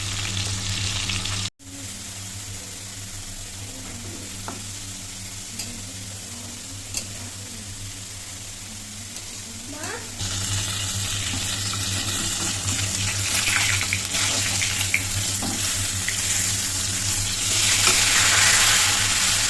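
Fish pieces frying in a pan give a steady, loud sizzle that runs throughout and grows brighter and more intense in the second half, with a sharp brief clatter near the start.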